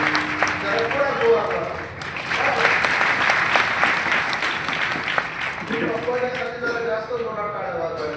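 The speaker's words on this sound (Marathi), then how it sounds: "जास्त जोरात टाळ्या वाजवायला" An audience at a Marathi kirtan in Selu claps hard and fast for a mridang player. The dense, sustained applause carries on for several seconds, and a voice rises over it toward the end.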